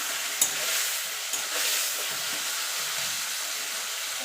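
Turmeric powder is stirred into taro greens cooking with a hilsa fish head in a pan, giving a quiet, steady sizzle with a few sharp scrapes of the spoon.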